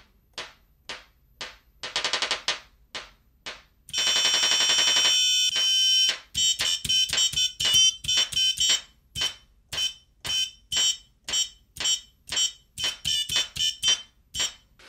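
Beeping melody from the small speaker of an Arduino Pro Micro based JC Pro Macro keypad, joined by a small solenoid tapping out a rhythmic beat; short distinct tones at first, then a sustained tone, then steady repeated clicks and beeps, close and loud.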